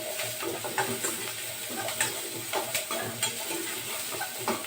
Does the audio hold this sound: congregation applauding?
no